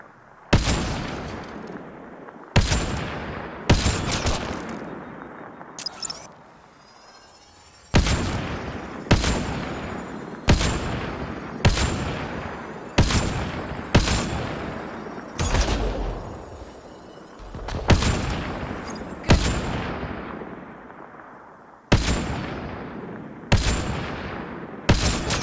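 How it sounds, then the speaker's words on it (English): Sniper rifle shots from the Mass Effect Andromeda video game, about fifteen sharp loud cracks fired one after another at a steady, unhurried pace, each with a short decaying tail and no talk over them. "It gives us more bullets to fire with the sniper rifle before it actually runs hot."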